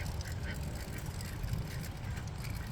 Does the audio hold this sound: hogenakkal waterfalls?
no